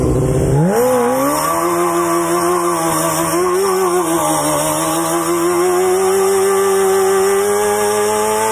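Honda F4i sport motorcycle engine revving hard during a rolling burnout, a loud close sustained whine that jumps up at the start, then holds high with wavering pitch alongside a steady hiss of tyre spin.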